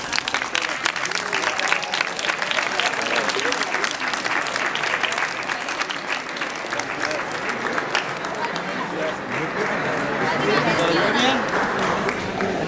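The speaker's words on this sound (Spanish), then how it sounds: "un aplauso para sus compañeros." Students on an academic visit to Parque Bicentenario in Guanajuato applaud their classmates with lively, continuous clapping, some voices chattering amid the applause.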